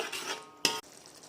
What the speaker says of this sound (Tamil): உப்பு போட்டு நல்லா கிண்டி விடுங்க.